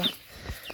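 A brief, faint chicken cluck, a couple of short calls close by from a frightened, newly brought hen.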